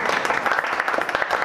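A short burst of steady, crowded applause fills the moment before an election speech in a comedy sketch, loud and continuous without any voices.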